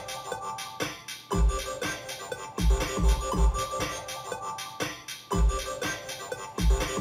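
Looped music from a circuit-bent toy, with a bass line, kick drum and snare repeating in a steady, slightly rough pattern that plays alone at moderate volume.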